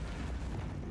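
Bombarda spell blast in a Harry Potter video game, a dense rumbling burst of noise filling the whole second at moderate level, with no talk.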